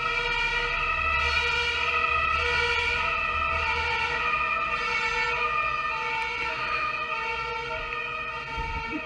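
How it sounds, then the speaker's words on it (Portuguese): A passing fire truck's siren blares steadily nearby with a rumbling engine underneath, holding loud for several seconds before easing slightly. "Tá passando um caminhão de bombeiro, deixa eu esperar o caminhão do bombeiro passar"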